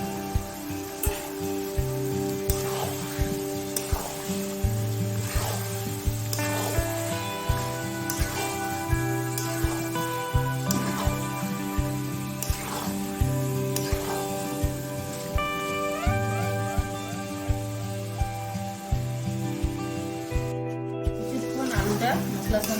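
Potatoes fry in spiced oil for a Bengali-style chicken curry, giving a faint, steady crackling sizzle that runs beneath background music and a voice.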